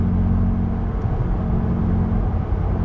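A 2017 third-generation Toyota Tacoma TRD pickup engine hums steadily while cruising in fifth gear at light throttle, a low, even drone with road rumble and no voices.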